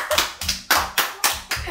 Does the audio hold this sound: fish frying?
no